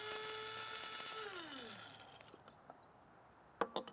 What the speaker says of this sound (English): put them into a clean coffee mill or spice grinder and just whirl them until they're finely ground